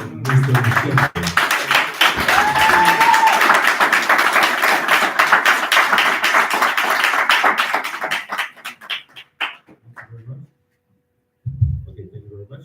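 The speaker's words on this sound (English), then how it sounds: "please give one applause for Mr. Michel." Audience applause at a Congolese community gathering in Ireland, with dense sustained clapping that swells and then thins out into scattered claps before stopping, followed by brief talk.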